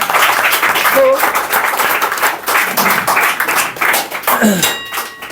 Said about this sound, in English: show your energy with your beautiful clap